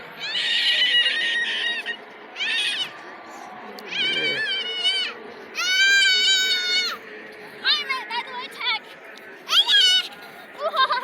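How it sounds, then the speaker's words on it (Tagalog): A cat meows repeatedly in drawn-out, rising and wavering calls, loud and close, with pauses between them while children chatter in the background. "Cat."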